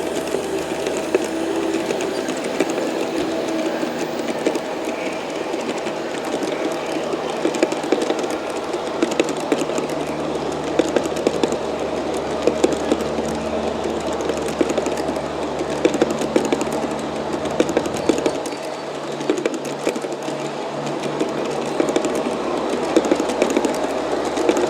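A G scale model BNSF freight train of 18 cars rolls down a grade, giving a steady, moderately quiet rumble with light rhythmic clicking of wheels over rail joints throughout, no talking.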